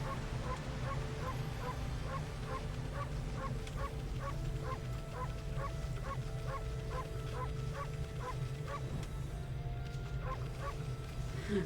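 Amaterasu, the wolf in the video game Okami, barks again and again in a quick, evenly spaced series of about twenty short yaps. The barks sit fairly faint over a low, steady background hum.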